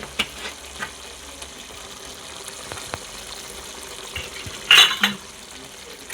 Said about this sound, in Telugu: కారం వేసుకున్న తర్వాత కొంచెం కలుపుకొని